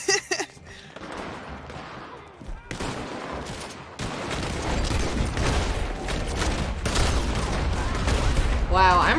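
Gunfire in Red Dead Online, a sharp shot at the start followed by dense, overlapping volleys that build into a sustained loud fusillade, with voices mixed in underneath.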